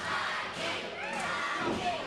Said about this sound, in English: Crowd behind Mike Dodge.